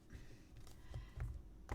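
Soft, rapid riffling and light flicking of cards, a few brief crisp bursts over a low background hum, close by.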